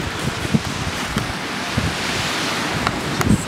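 Ocean surf washing onto a beach on a breezy day, a steady broadband wash of waves with light wind buffeting the microphone and a few brief knocks, no talk.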